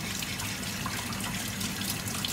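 Water running over aquarium gravel as it is rinsed, a steady close splashing flow without pause, no talking.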